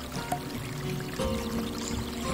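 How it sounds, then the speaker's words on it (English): Water poured onto roses in the video game Mexicana: Deadly Holiday, a steady close pour lasting a couple of seconds over a low game background. "Now we can water the roses."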